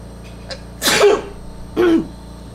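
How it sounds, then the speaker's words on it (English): Two sharp sneezes close to the listener, each a sudden explosive burst, with a faint sniff just before the first. "right now I'm gonna sneeze."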